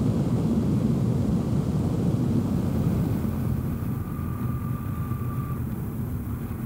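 A BMW R1300GS motorcycle being ridden, a steady broadband rumble of engine and wind noise rolling along continuously with no talk.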